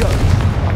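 A Confringo fire spell blasts off in Hogwarts Legacy, a short, loud booming burst with a heavy low rumble lasting under a second, standing alone without talk.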